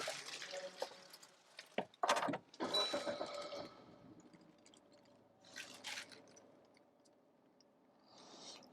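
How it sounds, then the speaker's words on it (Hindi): Push-button start of a 2021 Suzuki Vitara All Grip crossover, heard as a short sequence of mechanical clunks and a burst of noise around two to three seconds, settling into a steady low idle, with a brief rustle later. "तो हम गाड़ी को स्टार्ट करते हैं।"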